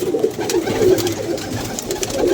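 Pet pigeons coo softly and repeatedly, kept by a hobbyist in Dharampura, Lahore, their low rolling calls close by over a steady rustling background.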